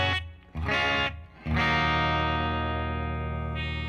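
Clean electric guitar rings out in open chords, a couple of short strums followed by one long chord left to sustain and slowly fade.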